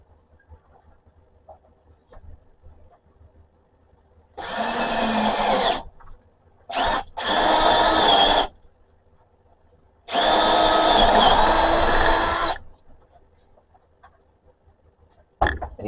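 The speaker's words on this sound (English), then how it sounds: "what I'm going to do is drill a hole through here first" A power drill bores a hole in a workshop panel near cabling, running in three loud sustained bursts close up, the middle one briefly stopping and restarting, with quiet pauses between.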